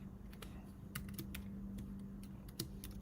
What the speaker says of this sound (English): hitting the wrong button on this keyboard